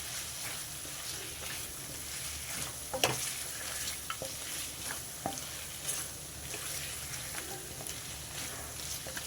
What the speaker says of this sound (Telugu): ఇదంతా బాగా కలిపేసుకుంటా.